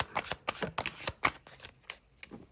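A deck of angel oracle cards is shuffled by hand in a quiet room, giving a run of soft, close riffling bursts and quick flicks in an uneven rhythm.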